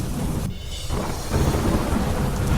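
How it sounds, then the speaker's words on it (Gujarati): Torrential monsoon downpour in Aravalli, a dense steady roar of heavy rain with low rumbling thunder swelling beneath it, loud and continuous with no voices. "અરવલ્લીમાં ધોધમાર વરસાદ"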